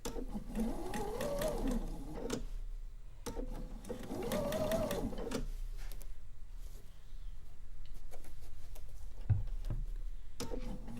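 Sewing machine stitching quilt block seams, its motor whirring in two clear bursts of about two seconds each, followed by quieter pauses with faint handling sounds.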